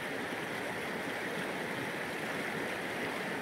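A river in rural New Zealand flows in a continuous broadband rush, steady and fairly close, with no voices over it.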